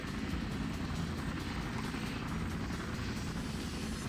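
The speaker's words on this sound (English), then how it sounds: "Now the engine is starting up." A helicopter engine in a modded Minecraft game runs steadily, a dense continuous rotor and engine roar with a fast chopping pulse, loud and even throughout with no voice.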